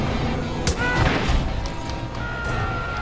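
Gunfire during a Far Cry 5 firefight, a couple of heavy booming shots close together early on, then rumbling background noise with fainter shots.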